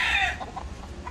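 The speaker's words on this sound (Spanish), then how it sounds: "Estos son pollitos." Chicks peep and chickens cluck close by in a rooster-breeding yard, a brief burst of high chirping followed by a few soft clucks, with no voices.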